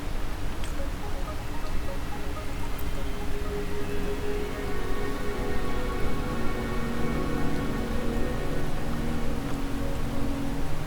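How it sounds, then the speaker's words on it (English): Rain falls steadily in the Wuthering Waves video game as a dense, even hiss of drops that runs unbroken and fairly loud, with no voices. "Don't worry, the rain won't last."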